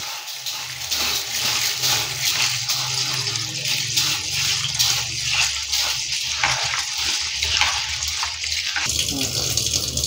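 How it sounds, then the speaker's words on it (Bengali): Rice being washed by hand in a bowl of water, with steady running and sloshing water throughout, fairly loud and close, and a brief change near the end. "চালটা এবার ভালো করে ধুয়ে নেব।"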